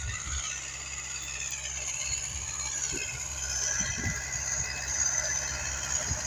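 An MTZ-80 tractor engine runs with a KPS-4 cultivator in a field, a steady low drone with faint rattling and mechanical knocks, continuous and moderately close without talk.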